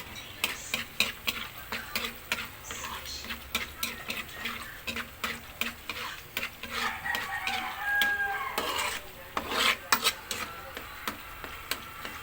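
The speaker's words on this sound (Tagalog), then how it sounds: "mikos-mikos lang para pantay yung luto niya" Biko, a sticky rice cake, being stirred in an oiled pan as it cooks: repeated scraping and knocking strokes in an irregular rhythm, close and moderately loud, with a rooster crowing faintly in the background.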